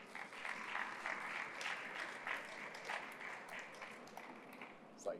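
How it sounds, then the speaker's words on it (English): Steady applause from an audience at a business forum session on hydrogen, a dense wash of many hands clapping that holds for about five seconds at a moderate distance. "And a round of applause for Thiago"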